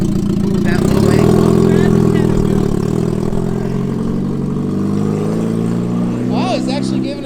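Turbocharged go-kart engine revving under throttle, a loud steady mid-pitched drone that swells and holds for several seconds, with people talking over it throughout.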